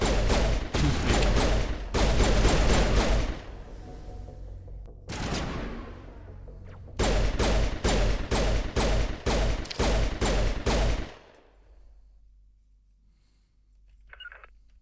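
Rapid bursts of pistol gunfire in Mass Effect Andromeda, loud close shots in quick clusters separated by short pauses, then fading to quiet game ambience near the end.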